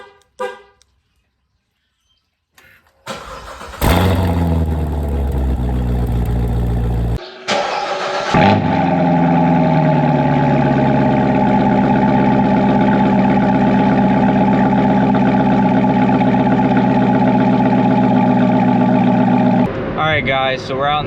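A Corvette Z06 with a Corsa catback exhaust and secondary cats still fitted cold-starts after a few seconds of quiet. It catches with a loud bark, dips, then settles into a steady, loud, rumbling high idle that holds until the end.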